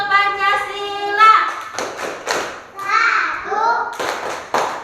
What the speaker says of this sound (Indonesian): Ayo, tepuk simbol Pancasila.